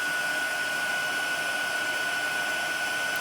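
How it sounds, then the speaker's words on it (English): An embossing heat tool blows hot air in a steady, unbroken whoosh with a thin high whine, close and constant as it passes beneath stamped cardstock. "moving the heat tool along"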